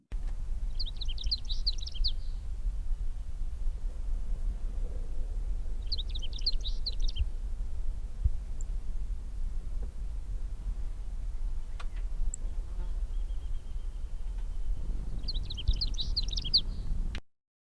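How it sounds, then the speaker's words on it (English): Three bright, rapid bell sparrow song phrases spaced several seconds apart over quiet low background hum, with a few faint ticks between. "I love bell sparrow songs."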